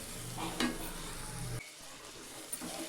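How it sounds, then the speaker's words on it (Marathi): Chili powder masala being stirred and sautéed in a pan for a hotel-style tadka dal fry, a faint sizzle with soft scraping strokes that drops out briefly, then returns quietly. "त्याला चांगलं एक मिनिटभर परतून घ्यायचं"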